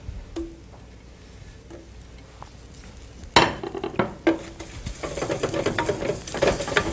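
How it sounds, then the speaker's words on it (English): Asafoetida and ginger frying in ghee, a soft sizzle that builds and grows steadier, with sharp clinks of a utensil against the pan and stirring noises, close and without talk. "Let's fry up some of our spices."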